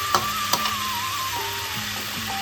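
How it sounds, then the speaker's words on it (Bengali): Chicken sizzles and fries in a pan, a steady, close hiss with a couple of faint clicks or taps. A thin whistling tone runs underneath, and no one speaks. "এদিকে চিকেনটা আমাদের ভাজা ভাজা হয়ে গেছে। চিকেনটাকে কিন্তু একটু ভালো করে ভেজে দেব।"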